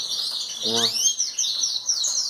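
Belgian canaries chirp and trill in a steady, bright stream close by, with brief overlapping calls and a short human vocal sound partway through.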